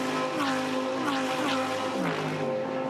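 The 888 Mercedes-AMG GT race car at a Fanatec GT World Challenge Australia race in Queensland drives past with a loud, continuous engine roar, its pitch rising and falling as it shifts through the gears.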